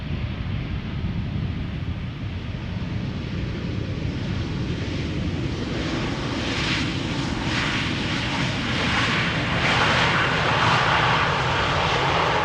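A 16-year-old Airbus A319 arriving at Amsterdam Schiphol Airport from Florence, its jet engines roaring loud and broad, swelling steadily as the plane draws nearer, with some wind buffeting the microphone.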